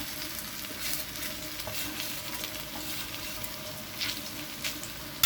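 Sliced okra frying in plenty of oil over a low flame for a crispy stir-fry, a continuous soft crackling sizzle with faint bubbling, fairly quiet and steady throughout, no talking.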